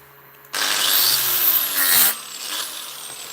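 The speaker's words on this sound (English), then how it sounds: "I'm just going to work on the edges I can get at here with the grinder" An angle grinder works along metal edges, its disc held at roughly 45 degrees on a bench, starting abruptly with a loud, steady high-pitched whine, rising briefly in pitch and load, then easing off near the end.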